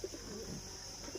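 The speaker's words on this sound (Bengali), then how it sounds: "বিগ সাইজ পায়রা আছে গাইস" Big pigeons kept for sale coo softly in a brief burst, a couple of low throaty notes over quiet background hiss.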